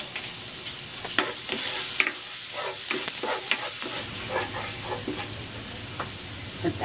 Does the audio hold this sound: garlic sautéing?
yes